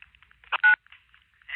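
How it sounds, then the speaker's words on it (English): A cordless phone answering machine dialing a number, a short DTMF tone beep amid faint button clicks, with brief speech-like sounds before and after. "so we can hear what it sounds like when you dial a number"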